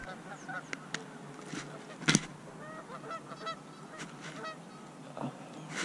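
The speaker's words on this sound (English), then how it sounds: "Here come a pair of geese." A pair of Canada geese honking in flight during a North Carolina goose hunt, with repeated honks at moderate distance over outdoor background noise and a few sharp louder calls.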